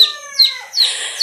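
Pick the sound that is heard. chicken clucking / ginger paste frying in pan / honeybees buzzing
chicken clucking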